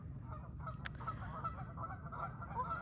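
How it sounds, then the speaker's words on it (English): Geese honk loudly and continuously nearby in an outdoor setting during an eclipse gathering, a dense, overlapping chorus of calls filling the whole stretch. "The geese are going crazy over there."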